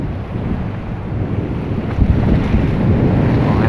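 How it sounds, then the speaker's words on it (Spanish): Ocean shore at Hampton Bays beach, New York, with steady wind buffeting the microphone and a low rolling wash of surf underneath, loud and continuous. "hoy les voy a enseñar acá a la orilla del mar"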